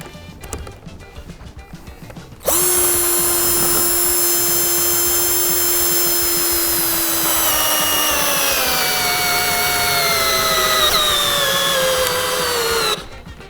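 A Dnipro-M CD-218 cordless screwdriver starts abruptly and whines steadily while driving a screw. Its motor pitch sags under growing load for several seconds before it cuts off sharply.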